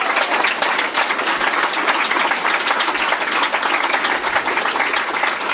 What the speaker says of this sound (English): So a big round of applause for all of the candidates.